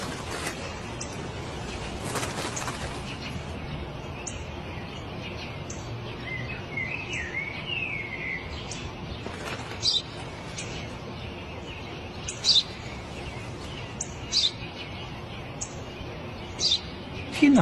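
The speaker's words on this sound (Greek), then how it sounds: "Ένα σπουργίτη είναι, πατέρα. Ένα σπουργίτη." A sparrow chirps in short, bright, scattered calls outdoors, fairly faint over a hiss of background noise, with a few louder chirps toward the end.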